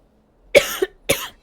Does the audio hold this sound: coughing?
yes